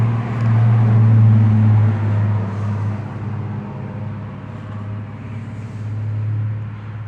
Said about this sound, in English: even though there's traffic noise and stuff